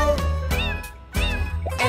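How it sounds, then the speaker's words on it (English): A cartoon cat in a children's nursery-song animation meows loudly, with a couple of bright, wavering cries in quick succession close to the listener. "There was a farmer who had a cat, and Bingo was her name"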